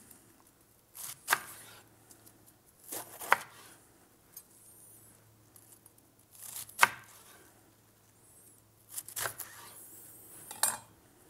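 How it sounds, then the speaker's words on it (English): A knife chops baby lettuce into quarters on a board in a handful of sharp, separated cuts, with quiet pauses between strokes. "I just want to cut them into"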